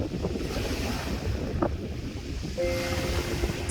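Sea waves wash over a jade-pebble beach on Seonyudo island, with a continuous rushing surf and rattling stones, heavy wind buffeting the microphone throughout.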